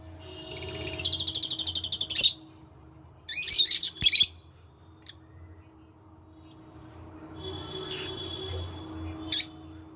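Nestling birds and their mother give bursts of high, rapid chirping at close range, with a long run early, two short clusters, then softer calls and a brief final chirp over quiet background.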